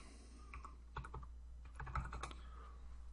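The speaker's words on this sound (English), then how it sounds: "We're going to go ahead and type in Thanksgiving." Keys tapped on a computer keyboard in short irregular bursts, a quick run of clicks followed by a few more spaced strokes, close and fairly quiet over a low steady hum.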